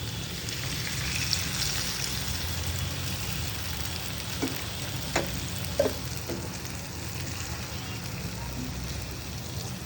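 Marinated Sundarbans sea fish frying in hot oil in a pan, a steady close sizzle and crackle throughout with a few small pops and clinks standing out over the constant hiss.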